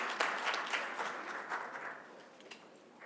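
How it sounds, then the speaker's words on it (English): Applause breaks out at a Rochester Board of Education business meeting, a fairly quiet, distant round of clapping from a modest crowd that gradually tapers off over three seconds. "Let's give Ms. Cruz and her mom another round of applause"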